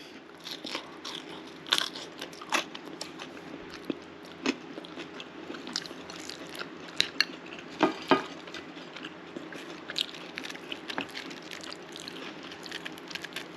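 A french fry scooped through a bowl of chili and eaten close to the mic, giving a string of crisp bites and crunches over soft chewing and wet smacking, with irregular louder snaps scattered throughout and no speech.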